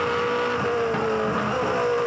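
Holden V8 Supercar engine heard onboard at Bathurst during the 2006 Bathurst 1000, a loud steady high-revving drone in fourth gear with a brief throttle flick, continuous and close.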